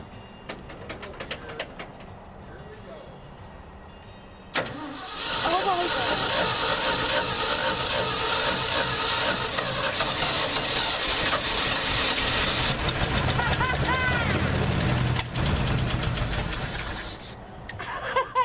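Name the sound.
old engine of Brutus Bumpside starting and running, popping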